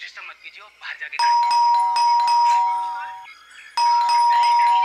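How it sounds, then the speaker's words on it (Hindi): An electronic doorbell chimes twice with ringing tones, the second ring after a short pause, following brief talk at the start. "तो तुम बजाओ घंटी, शायद तुम्हारे हाथ से सुन ले।"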